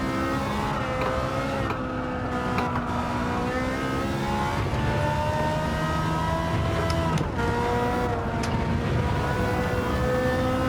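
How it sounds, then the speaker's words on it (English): A Ferrari in Gran Turismo 7 screams near its rev limit, loud sustained high engine tones rising and dropping with gear changes, a continuous racing engine with no talk. "I'm driving it purposefully to the limit, to the rev limit, just because it sounds great"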